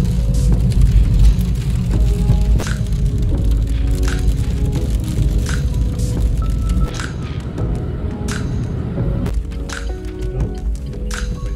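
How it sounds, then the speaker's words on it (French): Heavy rain pours steadily over a countryside spot in Germany near a Hindu temple, a dense constant hiss that stays loud throughout with sharper drips and splatters scattered on top. "il pleut des cordes"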